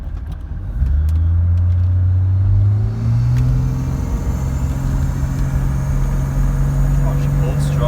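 A Mercedes G-Wagon with an OM606 diesel engine and twin stainless silencers pulls steadily on a road test, its low, rising engine drone constant and fairly loud throughout.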